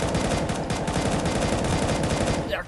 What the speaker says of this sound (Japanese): なんか銃声するよね